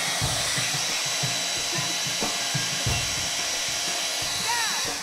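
A hair dryer runs steadily while heating stickers on a Formica surface, a constant loud whooshing blow with faint knocks and shuffling mixed in.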